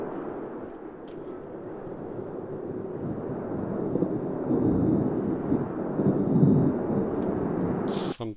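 Rolling thunder sound effect, a low rumbling roll that builds in the second half and stays sustained, with a brief brighter click right at the end.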